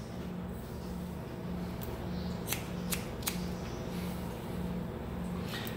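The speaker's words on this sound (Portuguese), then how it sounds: "Aí eu vou cortando, fazendo uma meia lua." Scissors cut through coily, afro-textured hair in a series of crisp, close snips spaced a second or so apart, over a steady low hum.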